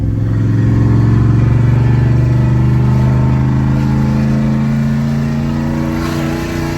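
GMC Sierra pickup engine with the exhaust cutout open, a loud close deep roar that rumbles steadily and holds for several seconds, easing only slightly toward the end.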